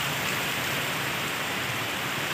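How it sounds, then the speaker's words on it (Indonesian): Rain falls steadily in a continuous, even hiss of drops on surfaces, close and constant with no talk. "Hujan guys,"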